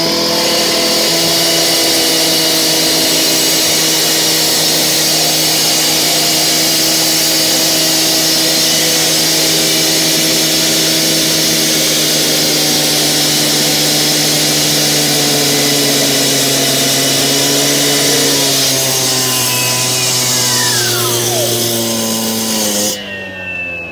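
A 14-inch battery-powered cut-off saw runs continuously and loudly up close, giving a sustained high-pitched whine with steady tonal layers for over twenty seconds, with no speech.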